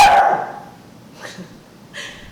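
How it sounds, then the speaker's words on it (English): A dog gives a loud, close bark at the start, followed by two fainter yips or whimpers, in a quiet room. "my dog is barking"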